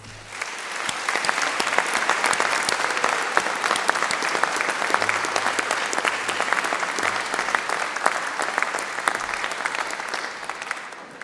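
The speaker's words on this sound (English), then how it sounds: "could we start with a huge round of applause for those who have supported you" Loud, sustained applause from a large crowd at a university graduation ceremony, steady clapping filling the space for several seconds without letup.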